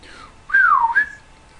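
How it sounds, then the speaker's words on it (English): A person gives a short two-part whistle to call a dog, a loud descending note followed by a brief rising chirp, heard alone. "That's how you whistle for a dog"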